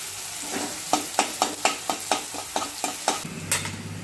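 Garlic fries with softened onions in a pan, a spatula stirring in a quick regular rhythm of about a dozen scraping strokes over a low sizzle.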